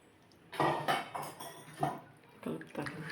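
Metal spoon scraping and clinking against a pot while raw fish curry masala is mixed, several irregular stirring bursts close by, no talk.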